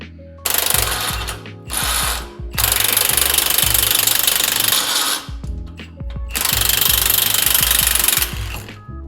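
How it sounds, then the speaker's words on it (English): An impact wrench hammers loose a sway bar end link on a Pontiac G8 during a coilover install, firing in three loud, close rattling bursts with short pauses between them. "I disconnected the sway bar from the top, from the actual sway bar itself with the impact"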